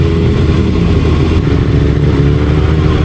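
Sport motorcycle, such as a Kawasaki ZX-6R, Yamaha R1 or GSX-R, rolling slowly along a dusty hill road, its engine holding a steady, loud low rumble throughout with no talk.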